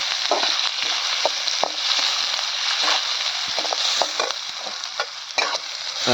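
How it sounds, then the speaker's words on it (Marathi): Onion and peanuts frying in oil for poha at home, a steady loud sizzle with scraping and stirring clicks of a spoon in the pan throughout, no voices. "आता कांदा आणि शेंगदाणा झालं भाजून आता घ्यायचे चांगलं तेल तेलात तळून"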